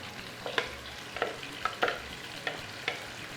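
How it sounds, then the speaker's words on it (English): Tomatoes, pepper and onions sauté in a pan with a soft steady sizzle, punctuated by about seven sharp scraping stirs of a utensil at regular intervals; no voices. "I'm going to be adding my tomatoes and pepper with some more onions"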